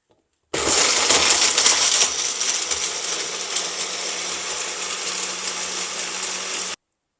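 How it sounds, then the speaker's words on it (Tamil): A kitchen mixer grinder whirs hard on coconut for a Tamil brinjal salna, starting abruptly with a gritty, loud, steady roar for about six seconds, then cutting off cleanly into silence; no talk. "இந்த தேங்காய் வந்து நல்லா அரைப்படணும்"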